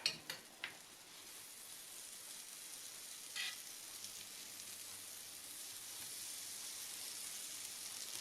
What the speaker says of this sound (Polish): Kładę polędwiczki na gorącym tłuszczu i będę je obsmażać ze wszystkich stron.